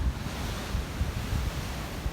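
Large ocean waves surge and break along a flooded Boston shoreline after a storm, a steady roaring wash close by with heavy wind buffeting the microphone.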